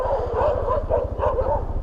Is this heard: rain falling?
no